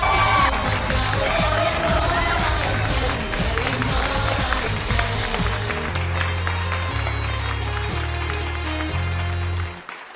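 A studio audience at a talent show in Karachi claps and cheers loudly to welcome the final three contestants. A dense, sustained roar of applause runs under music and then eases off near the end.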